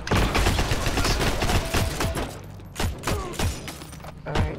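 Grease gun fire rips through a video game match in loud, dense, rapid bursts, one volley running into the next with short gaps and clattering impacts, close and unbroken by any talk.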